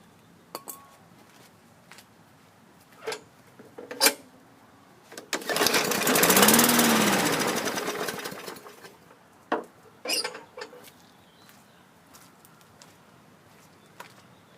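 Bolens push mower engine, a 2014 model needing carburetor attention, briefly catches on a pull start, sputtering and roaring for a few seconds before dying out, set among sparse clicks and knocks.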